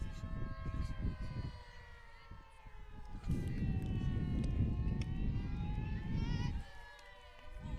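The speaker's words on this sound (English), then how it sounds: "you can also hear the fire siren here in the background" A fire siren wails faintly in the distance, its rising and falling tone drifting over steady background rumble and crowd noise at a high school softball game.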